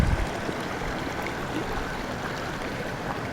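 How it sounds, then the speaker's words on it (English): A Yosemite creek swollen with snowmelt rushes steadily nearby, a dense continuous wash of flowing water with no voices. "I was checking out this creek. Waters, I mean, snow melt obviously."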